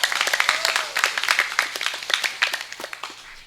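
An audience at a humorous religious sermon gatherings claps for the organizing committee in a short burst of scattered, uneven claps that thins out, with a few voices around it.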